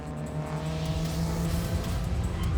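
Classic race cars, among them a Mercedes-Benz 280E, roar past on a hillside circuit, a loud and continuous engine drone with the pitch shifting as they go by.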